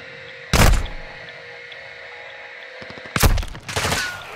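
Gunfire aimed at the player in a multiplayer shooter game, two sharp, loud bursts of rapid shots close by, the second longer and trailing into scattered follow-up cracks over a steady background hum.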